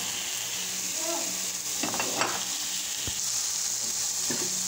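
Flaked round scad sizzles and fries in a pan with garlic and tomato, a steady close crackle broken by a few stirring scrapes and utensil clinks, with no talking.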